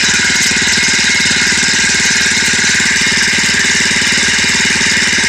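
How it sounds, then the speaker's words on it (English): A motorcycle engine runs steadily and loudly close by, a rapid even mechanical chug with rattling vibration throughout, no speech over it. "That's not just the whole bike moving. That's mostly just the engine warping around."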